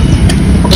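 A car engine warming up idles with a steady, close low rumble throughout a very short stretch, with no voices over it.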